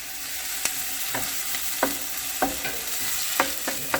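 Tomato paste sizzling as it cooks down in a pot for Bahamian pea soup, with a constant soft fry and a few distinct spoon scrapes at irregular intervals, close up.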